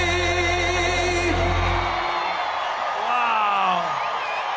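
Large outdoor political rally crowd in Gastonia roaring and whooping, loud and dense, with music fading out early and a few yells rising over the sustained cheering.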